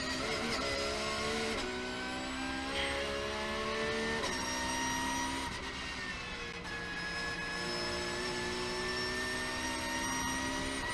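A race car, driven by Kevin Estre, powers around a track with a loud, steady engine drone whose pitch rises and falls through braking and acceleration, harmonics sweeping across the whole stretch with no voices.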